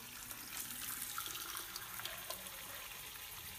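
Tap water runs from a sink faucet into a pressure cooker for brown rice, giving a faint, steady splashing and trickling stream with no break.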